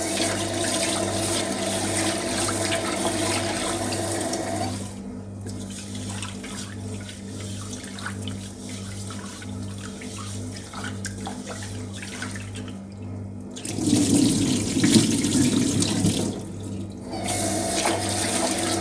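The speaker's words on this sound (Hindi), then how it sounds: "तो ये पानी तो अब मुझे फेंकना ही पड़ेगा" Water poured and running into a sink, a steady splashing stream with a louder, fuller gush near the end and brief pauses between, close and alone with no voices.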